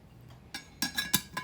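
Glass jars with metal lids clink together in a few quick, light taps, faint and close, with no talk.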